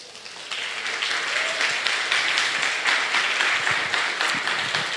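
A church congregation applauds in a steady, dense wash of clapping that swells after the first half second and holds evenly throughout, with faint voices mixed in.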